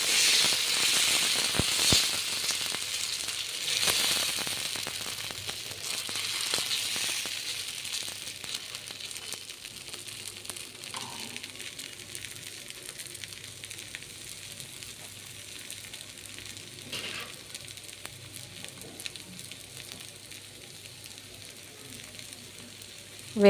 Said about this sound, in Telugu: ఆయిల్ రాసుకొని మనం మిక్స్ చేసుకున్న గోధుమ పిండిని దోశలులాగా